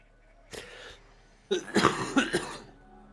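A single cough, then a louder burst of several harsh coughs in quick succession, close and otherwise quiet.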